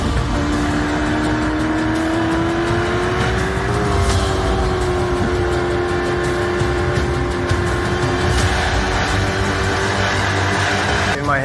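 Chevrolet Corvette ZR1X accelerating hard on a Nurburgring lap, a loud continuous engine roar with a steady high tone that climbs and holds as speed builds, heard from on board.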